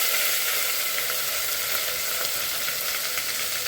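Ground masala paste for a mutton curry frying in a pan, a steady, close sizzling hiss that holds evenly throughout with no voices.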